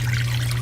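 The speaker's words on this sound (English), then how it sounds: "Here's the draining process. Got the hose." An Avanti STW20D2P portable washing machine drains water out through its hose, a steady close trickling pour over a constant low pump hum, brief and unbroken with no voices.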